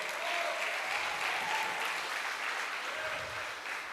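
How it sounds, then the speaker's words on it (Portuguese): A church congregation claps together during a Sunday evening service, with dense, sustained applause that swells and then eases slightly. A few voices call out over it. "Palmas para o Senhor nessa noite."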